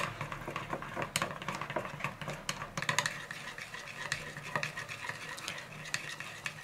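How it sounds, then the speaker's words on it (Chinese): A spoon stirring sesame paste as water is worked in, making a steady, close scraping and clicking against the bowl that continues without pause. "加一次水之后，充分的给它搅拌，让芝麻酱把水全部吸收之后，"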